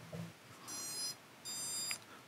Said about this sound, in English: So there's the EEC tones.